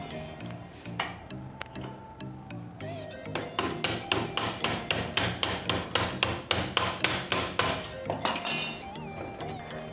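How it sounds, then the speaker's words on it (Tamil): A hammer taps a Bajaj Pulsar 220F motorcycle brake caliper to work it loose: scattered metallic knocks at first, then a fast, even run of about twenty sharp, ringing strikes, close and fairly loud. "இப்போ பார்த்தீங்கன்னா இந்த கேலிப்பர் வந்து லூஸ் ஆகிடும், இன்னும் கொஞ்சம் தட்டிக்கலாம்."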